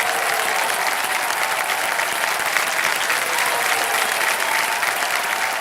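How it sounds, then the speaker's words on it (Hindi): Studio audience on a Hindi quiz show (KBC) gives sustained, dense applause, loud and steady throughout with a faint voice buried underneath. "एक चेक आ गया, ताली बज जाए इनके लिए।"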